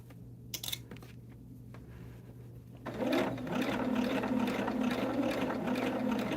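A sewing machine stitching quilt fabric for a Tequila Sunrise quilt, with a few quiet clicks first, then a steady loud whirring run that continues to the end.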